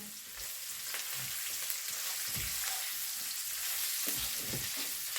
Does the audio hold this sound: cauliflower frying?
yes